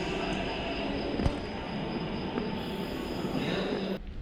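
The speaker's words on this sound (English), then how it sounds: "Waiting for a metro to come. That's how the metro goes." A metro train rolls through a station with a steady rumble of wheels on rails, a faint squeal of wheels and a short clank, close and fairly loud, with no clear talk.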